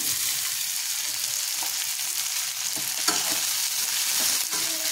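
Sabudana mixture with sugar and chili sautéed in a hot pan, a continuous loud sizzle with occasional soft scrapes of a spatula, close and without talk.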